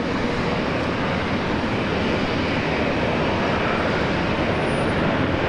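A Qantas Boeing 737 with a short field performance package at Brisbane Airport, a steady broad roar of jet engine noise that holds loud and constant throughout, with no voices over it.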